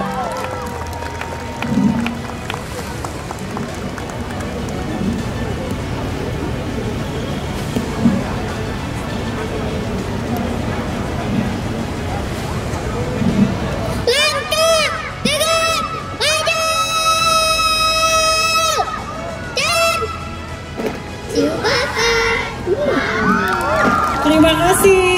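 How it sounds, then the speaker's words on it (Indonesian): A crowd at a Samarinda city hall event applauds and cheers for a child police troupe, with a broad wash of clapping and shouts under an announcer's voice, then bursts of whooping and music-like tones. "Boleh kita berikan aplaus yang meriah untuk Pocil Samarinda."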